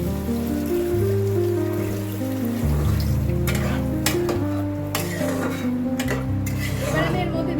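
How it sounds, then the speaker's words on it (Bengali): Water hits a pan of spice paste frying in oil for a potato-cauliflower curry, setting off a loud sizzle and bubbling. Spoon stirring and scraping clatters close by, with sharp spits and hisses over a low hum. "মশলাটা দিয়ে তেল ছাড়তে শুরু করেছে, এবার আমি এর মধ্যে দিয়ে দেবো খানিকটা পরিমাণ জল।"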